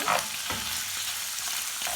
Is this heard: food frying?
yes